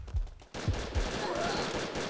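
Pistol shots in the video game Brick Force: three sharp bursts in quick succession, then a steadier noisy stretch of game sound, fairly quiet overall.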